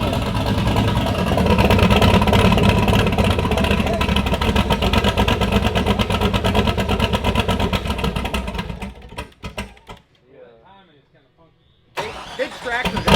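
A car engine runs loudly on a dyno with a rough, tractor-like chug, then revs down and cuts out before briefly firing again, heard up close with voices over it.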